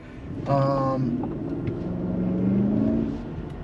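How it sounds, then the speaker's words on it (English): A 2021 Mercedes-Maybach GLS 600 with 550 horsepower accelerates in sport mode, a close engine drone rising steadily in pitch with a brief tonal chime near the start, heard from inside the cabin. "so let's actually put this in sport mode, see how it responds."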